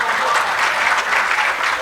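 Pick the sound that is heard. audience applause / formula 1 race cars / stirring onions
audience applause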